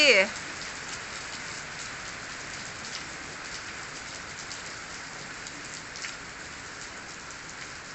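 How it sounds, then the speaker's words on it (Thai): Steady rain falling, a continuous dense hiss of drops on surfaces, fairly loud and close, after a short voice at the very start. "ฝนมันตก"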